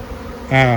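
A honey bee buzzes loudly and close by at a hive with a drone-laying queen or laying-worker problem, a sharp whine that starts suddenly halfway through after a quieter background hum.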